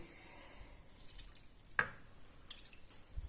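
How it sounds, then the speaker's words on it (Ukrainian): Water is added to a homemade Easter sausage mixture of minced meat, spices and pressed garlic, giving a single faint splash and a few soft drips against a quiet room. "додаємо воду."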